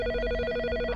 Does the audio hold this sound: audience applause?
no